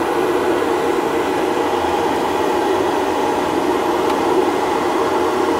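Vacuum pump kit fitted to a Bobcat T76 loader running steadily, a constant loud whirring drone with a broad hiss and no breaks, close by.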